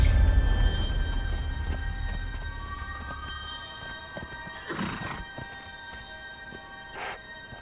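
A horse in the game Conan Exiles gives whinnying neighs over a run of clip-clopping hooves, the hoofbeats loudest at the start and fading, with short bursts of neighing later.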